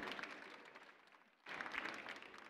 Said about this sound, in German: Das ist mal ein Applaus wert